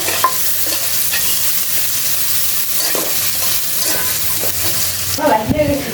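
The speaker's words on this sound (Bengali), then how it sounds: "দেখো পেঁয়াজ দিয়ে পেঁয়াজ ভেজে নিচ্ছি" Onions frying in a pan for a fish curry, a steady close sizzle with occasional stirring scrapes and a sharper burst of clatter near the end, no talking.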